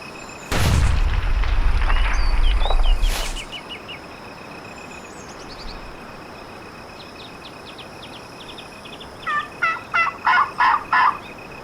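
Wild turkeys gobble in a turkey hunting video game: one loud near gobble with a deep thump, then a faint distant gobble, and later a rapid burst of clucking gobbles at moderate distance over steady outdoor ambience.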